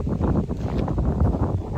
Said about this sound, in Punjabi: ਹਵਾ ਚੱਲ ਰਹੀ ਹੈ ਬਹੁਤ